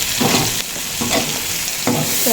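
Garlic fries in a pan with shrimp and crab for garlic butter shrimp, under a loud, close sizzle broken by three or four scraping stirs.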